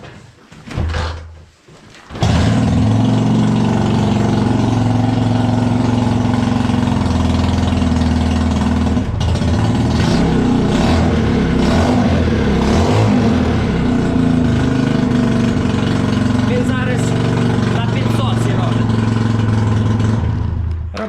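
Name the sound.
Chinese chopper motorcycle engine idling after winter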